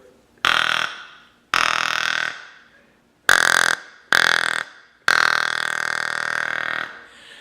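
An open reed deer call, blown through its tube, imitates a mature buck grunt: five loud, raspy, burp-like blasts, the last one long and drawn out, each starting abruptly and tapering off.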